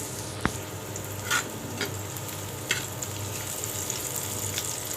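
Onions frying in oil in a pan for a potato and bottle-gourd peel dish, a steady close sizzle with a few brief clinks and stirring scrapes scattered through.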